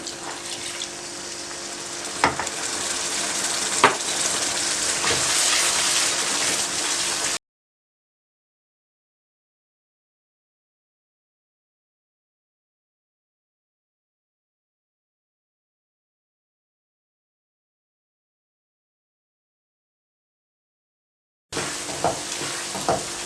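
Carrot semolina halwa cooking in a pan after milk is added, a bubbling sizzle with stirring scrapes and watery sloshing for several seconds, then a long silence before the stirring returns briefly.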